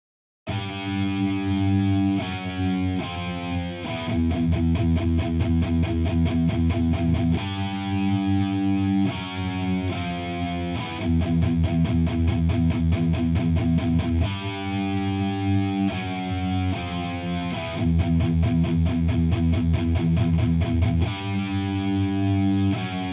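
Heavily distorted electric guitar plays a chorus riff: chugging power chords in a repeating, driving rhythm, loud and close, with no voice.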